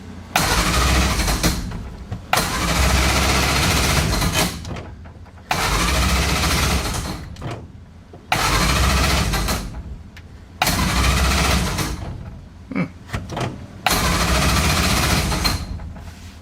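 A Crosley engine, primed with gas poured into the carburetor, is cranked repeatedly in a series of loud close bursts of starter whirring separated by short pauses, catching only briefly and never settling into a steady run.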